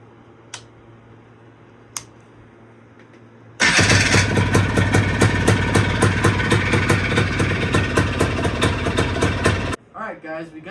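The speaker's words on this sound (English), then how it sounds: "This is a very cold start after I started it before." A 1991 Polaris Trail Boss 250 ATV cranks and cold-starts abruptly after a few quiet clicks, then idles loudly with a fast rattling, ticking beat for several seconds before cutting off, followed by a voice.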